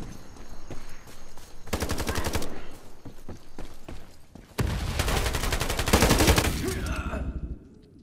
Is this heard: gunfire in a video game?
yes